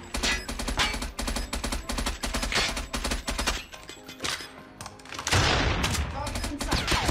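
KSP-45 gunfire from a mobile shooter game, fired in rapid bursts that stay loud and close for most of the stretch, with a brief lull before a heavier burst near the end.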